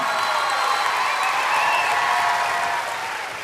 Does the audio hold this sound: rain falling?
no